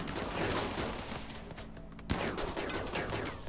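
Rapid overlapping gunfire from a firefight in the colony game Rimworld Alpha 12, loud dense bursts throughout with one sharper crack near the middle, no talk over it.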